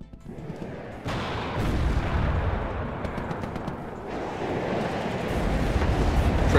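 Heavy battlefield gunfire in the real-time strategy game WARNO rumbles as a dense, continuous barrage of shots and blasts, loud and layered throughout with no voices.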